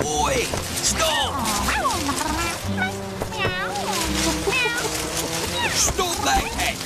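A cartoon cat meows in a whimsical children's animated scene, its pitched cries rising and falling amid splashy sound effects, music and lively character voices talking over it.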